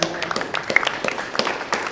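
An audience at a school wrestling awards event claps for the students, a loose scatter of individual hand claps rather than a full ovation, fairly close and uneven in rhythm.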